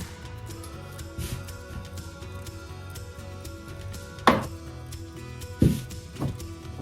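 Scissors trim loose threads on a handmade wolf mask, making two or three sharp, isolated snips over a quiet room background.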